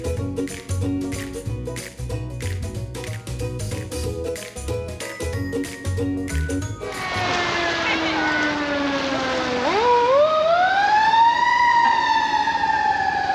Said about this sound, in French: moi le bruit des pompiers, j'adore ça